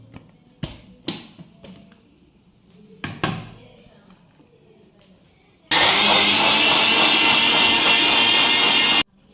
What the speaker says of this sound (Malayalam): മിക്സിയിൽ നന്നായിട്ട് അടിച്ച് മിക്സ് ചെയ്തെടുത്തിട്ടുണ്ട്